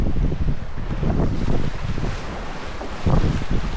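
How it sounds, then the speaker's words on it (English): Strong wind of about 15 knots at sea beside a trailer sailer caught on a sandbank at Wathumba Creek roars steadily across the microphone, loud and close, with gusty swells and no talk. "It's good 15 knots of wind ripping up from down there."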